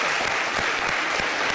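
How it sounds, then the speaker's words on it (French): Steady applause from an audience, dense and even throughout, close and fairly loud with no talk over it. "On l'applaudit quand même."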